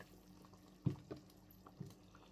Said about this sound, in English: So I'm going to add water, half cup of water.